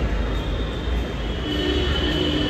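A metro train in Gurgaon rumbles past with a dense, continuous roar and a faint high squeal from the wheels, loud and close throughout with no voices.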